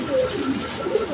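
A pair of shirting pigeons coo close by in a steady, low, throaty burble that continues through the whole moment with no talking.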